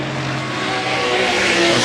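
Vintage racing cars at the Goodwood Revival, including a Maserati, roaring through the chicane in a broad, steady engine drone that swells slightly near the end, with a faint commentator's voice underneath.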